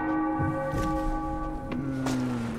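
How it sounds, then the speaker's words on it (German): Church bell in the game Sniper Elite V2, a sustained resonant tolling with two strikes a second or so apart, ringing out steadily and fairly loud. "Glocke"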